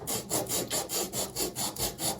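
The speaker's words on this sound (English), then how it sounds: "So I'm going to use this emery paper, and we're going to clean this off as best we can." Emery paper rubbed by hand over a pipe end being cleaned before a SharkBite push-fit fitting goes on, a steady rhythmic rasping of about nine close, even back-and-forth strokes with no talking.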